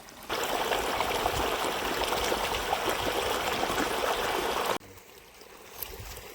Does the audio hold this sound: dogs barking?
no